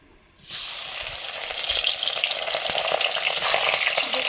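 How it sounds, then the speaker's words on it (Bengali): Small river chanda fish hitting hot oil, the pan quiet for a moment before a sudden loud burst of frying that settles into a dense, steady crackling sizzle, close and with no talking. "এবারে এই নদীর চাঁদা মাছগুলো ভাজবো"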